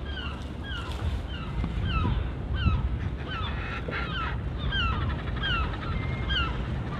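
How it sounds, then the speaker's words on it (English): Seagulls on Inchgarvie Island call repeatedly in short descending cries over steady wind and water, near and far, loud and overlapping throughout with no talk. "Oh, the seagulls are noisy."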